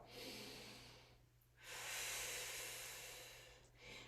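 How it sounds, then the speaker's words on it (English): A long, airy breath pushed out during a Pilates stretch, soft and close, with a brief pause partway before a second steady exhale over a low constant hum. "take a good exhale"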